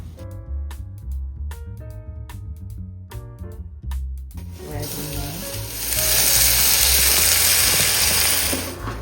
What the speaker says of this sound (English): Once we're done searing and sauteing our rice and those veggies